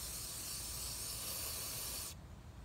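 CRC mass airflow sensor cleaner sprayed from an aerosol can onto the MAF sensor of a Hyundai Tiburon GT, a close, steady hiss lasting about two seconds before cutting off abruptly.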